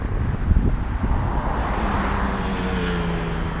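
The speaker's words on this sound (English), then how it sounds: "Looks like air ambulance." An air ambulance helicopter passes overhead, its engine a steady, droning roar that swells briefly early on and then holds at a moderate, fairly distant level, with no one speaking.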